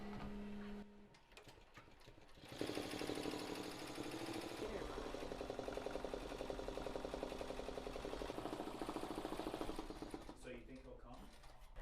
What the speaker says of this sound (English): So our flamingo's done sewing out now, so we can carefully remove this from our embroidery machine.